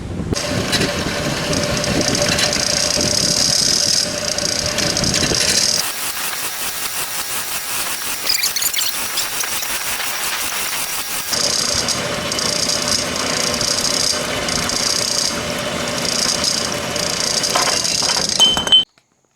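Machine cutting a Ford 8.8 rear axle housing in a garage shop: steady, loud mechanical grinding and clinking that drops away for several seconds mid-clip, then resumes and runs continuously before stopping abruptly at the end.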